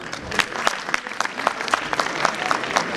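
Attendees at a university alumni meet break into applause, a steady patter of many hands clapping at moderate loudness for about three seconds, with no one speaking.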